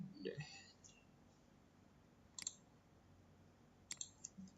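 A computer mouse clicks a few times, sharp faint taps in small clusters near the middle and end, with quiet murmured speech at the start.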